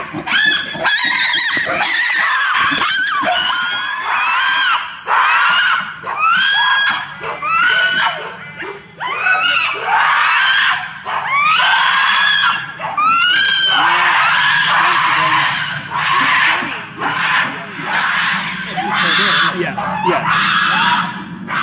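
Gorillas scream at each other in a zoo enclosure at Port Lympne, with repeated loud, harsh shrieks in close bursts that keep going for the whole stretch, and no pause in the din.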